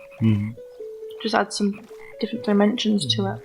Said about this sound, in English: Yeah, you can probably hear the frogs right now.